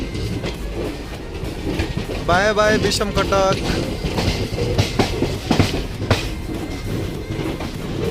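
A train pulls out of Cuttack station, a steady rumble of wheels on the rails running throughout, with a brief tonal squeal or whistle near the start and a person talking over it.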